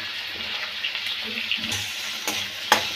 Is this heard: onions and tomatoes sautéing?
yes